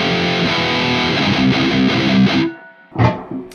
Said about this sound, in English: With the cut, it kind of starts to give that kind of a wah sound.